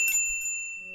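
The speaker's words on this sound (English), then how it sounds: "a bell above me ringing out" A shop door bell rings once as a thick wooden door is pushed open in the Katawa Shoujo video game, its clear sustained tones fading over a second with a faint low thud at the start.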